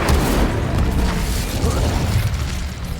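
An Incendio fire spell blasts in Hogwarts Legacy, a loud, roaring, rumbling burst of flame with heavy low boom that fills the whole stretch continuously.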